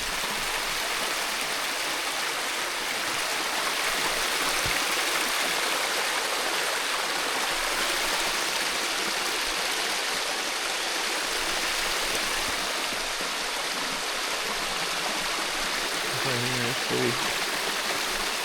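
Steady broadband rush of a small waterfall cascading, constant and fairly close, with a few faint voices briefly near the end.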